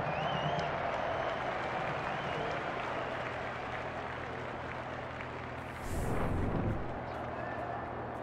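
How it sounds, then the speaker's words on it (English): An AFLW stadium crowd at a St Kilda versus Hawthorn women's Australian football match makes a steady roar before the bounce, swelling briefly into a louder burst of cheering, with commentary voices underneath. "The crowd already making plenty of noise as the captains come together in the middle."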